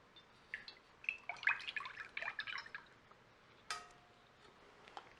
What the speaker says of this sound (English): I'm going to dump the lard into my bowl.